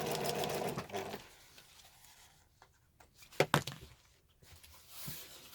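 A sewing machine stitches the lining of a bum bag in one short, steady run at the start, followed by quiet handling clicks and rustles.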